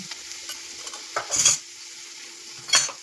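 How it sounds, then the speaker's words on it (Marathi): Didkya bean pods stir-frying in hot oil, a faint steady sizzle punctuated by two or three louder bursts of scraping and clinking as a utensil turns them in the pan, close up with no voices. "आता ह्या दिडक्याच्या शेंगा आपण मस्तपैकी तेलामध्ये परतून घेऊया"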